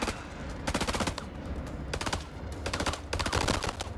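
Rapid machine-gun bursts crackle in House of Ashes, several tight volleys of automatic fire separated by short pauses, loud and close with no voices over them.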